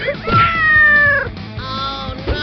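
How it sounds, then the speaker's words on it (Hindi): A cat meows loudly in a long, drawn-out wail that slides downward, followed by a shorter second cry, heard close up in a comedy skit with light background noise. "पकड़ो इस बिल्ली को, मेरा मतलब शेर को, और बॉल वापस ले लो।"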